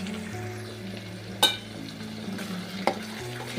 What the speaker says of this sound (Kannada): ಇದನ್ನು ಕೂಡ ನಾವು ಇದನ್ನು ಹಸಿ ವಾಸನೆ ಹೋಗೋವರೆಗೂ ನಾವು ಚೆನ್ನಾಗಿ ಎಣ್ಣೆ ಒಳಗೆ ಬೇಯಿಸ್ಕೋಬೇಕ್ರಿ